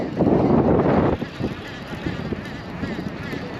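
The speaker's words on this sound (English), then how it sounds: "That wind's eased a bit." Gusty wind buffets the microphone on Town Quay pier in Southampton while fishing, a loud low roar for about a second that then drops to a softer, uneven rumble.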